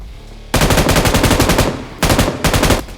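Rapid automatic gunfire in the mobile game PUBG Mobile: a long burst of loud, evenly spaced shots, then a short pause, followed by two more quick bursts, all close and dominant without talk.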